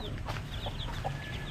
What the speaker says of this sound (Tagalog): Ayun yung mga sisiw.